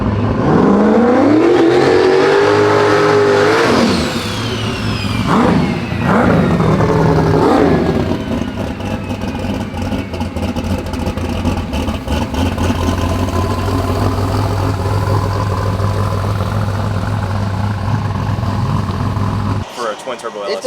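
A twin-turbo LS engine in a Mustang built as the Silverback revs hard and rises in pitch, then settles into a loud, steady drone that holds for most of the stretch, with voices talking over it.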